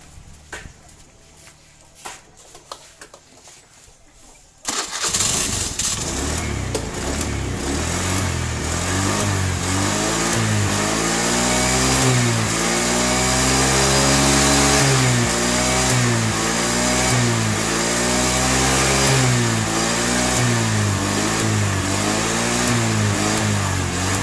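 A carbureted Honda Beat scooter engine, previously prone to sputtering, fires up after a few seconds of quiet, then idles and is revved up and down repeatedly, close and loud.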